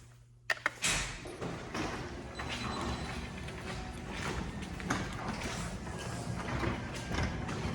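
Chain-operated garage door at a grandparents' home in Michigan, the large middle door, opens with a sharp clank followed by a steady, continuous mechanical rattle and rumble that runs throughout.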